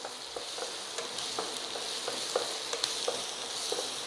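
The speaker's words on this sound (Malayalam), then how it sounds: "ഉള്ളി ബ്രൗൺ കളർ ആകുന്നത് വരെ വഴറ്റി കൊടുക്കാം" Onions sauté in a pan for Kerala-style kadala curry, a soft sizzle with light stirring clicks and scrapes, fairly quiet and steady.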